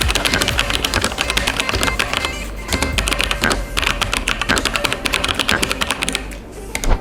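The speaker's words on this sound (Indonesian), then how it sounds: "Oke, langsung kita lanjut untuk typing test." Fast, continuous typing on a Cooler Master mechanical keyboard with brown tactile, non-clicky switches gives a dense close rattle of keystrokes with brief pauses between bursts.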